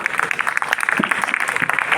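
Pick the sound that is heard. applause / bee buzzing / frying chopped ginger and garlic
applause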